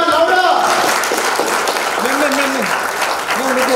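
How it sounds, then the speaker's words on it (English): An audience at the India Brand Icon Awards 2022 applauds steadily throughout, a dense wash of clapping with a voice calling out over it. "Everyone, come on! Big round of applause"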